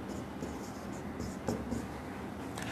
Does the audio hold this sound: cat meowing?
no